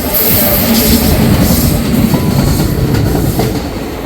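Geeta Jayanti Superfast Express overtaking on a parallel track beside a moving train, a loud continuous rumble of wheels with rhythmic clickety-clack and faint squeal, steady throughout and easing slightly at the end.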